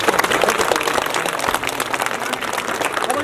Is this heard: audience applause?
yes